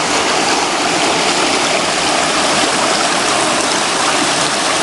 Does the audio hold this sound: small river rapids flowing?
yes